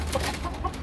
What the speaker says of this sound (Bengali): পাহাড়ি মুরগিগুলো, দেখেন